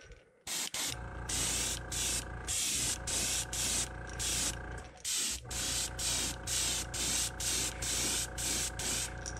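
An airbrush sprays sealer or primer onto a crawfish-pattern crankbait in steady, close hissing bursts, each lasting about half a second to a second and repeating rhythmically, with a short pause near the start and another in the middle.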